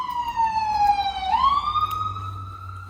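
An emergency vehicle siren wails outside, its tone gliding down and then sweeping back up in one long cycle. It is moderately faint, with a low engine-like hum underneath.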